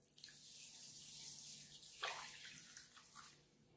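Water pours and splashes into a container holding flax seeds, a steady hissing gush close by, quiet overall with a few brighter splashes.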